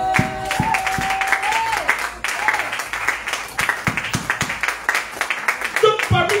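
Church congregation applauding and cheering the Lord during a sermon, rhythmic clapping building over a voice and background music, growing denser and more regular toward the end.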